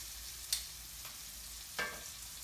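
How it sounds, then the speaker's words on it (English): Liver sizzles gently in a frying pan, a soft steady hiss with a couple of faint crackles and pops and no voices. "So I want a little bit of sizzle, but not just like the other items"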